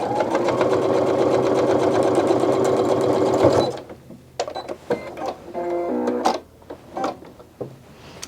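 A sewing machine stitches fabric for a medical mask in a fast, loud mechanical rattle that stops abruptly partway, followed by softer handling clicks and a brief whirring burst.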